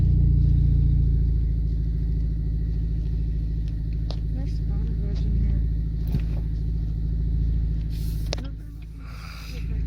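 A 4-cylinder turbocharged Camaro on its first drive after a build, a steady deep engine rumble and road drone from inside the car, with people talking over it and a drop in engine note near the end.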